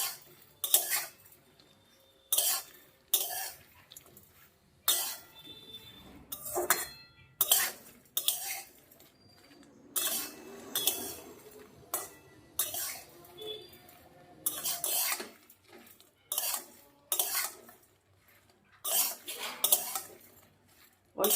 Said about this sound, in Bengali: অল্প ভাজা হয়েছে, আর একটু ভাজবো।